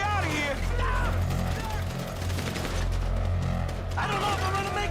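Gunfire rattles in a GTA 5 shootout: rapid bursts of shots crackle alongside other game noise, while a player talks excitedly over the action.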